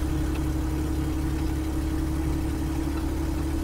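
A truck's engine drones steadily with a constant low hum, heard from inside while driving on a snowy road, no talking.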